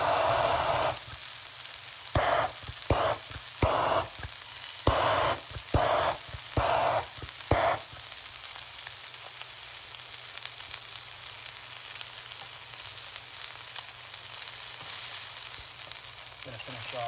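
Lamb chops searing in a hot pan give a steady close sizzle, broken in the first half by several bursts of louder crackling spatter. A quieter even hiss carries on to the end.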